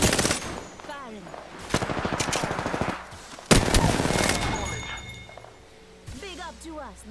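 Bursts of automatic gunfire in the Apex Legends video game, loud rapid volleys that come in two main stretches with sharp shot onsets, mixed with game effects and some voice activity.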